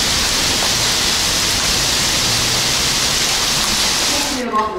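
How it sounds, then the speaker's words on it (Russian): Hail falls in a dense, steady outdoor hiss of countless small impacts. It stays loud and even for several seconds, then stops abruptly at the very end. "А вот и град пошел."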